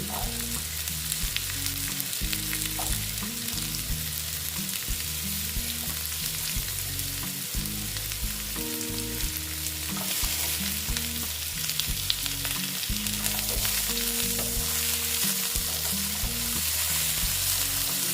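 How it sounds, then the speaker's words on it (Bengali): A pure-veg mixed vegetable curry with turmeric and jackfruit seeds being stirred in a pan: a continuous sizzle with soft stirring scrapes over a low, rhythmic tonal backing. "আবার নেড়ে চেড়ে নিচ্ছি এই পাঁচমিশালি তরকারি"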